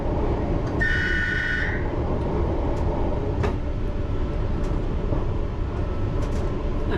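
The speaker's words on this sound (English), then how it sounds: "Right, blow me whistle." A London Underground train driver's whistle sounds once, a steady high tone lasting about a second, over the constant low rumble of the running train.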